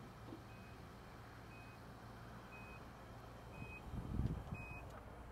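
Rear power tailgate of a 2022 Nissan Armada SL sounding a series of short, evenly spaced high-pitched beeps, moderately faint, with a low rumble building near the end and no talking.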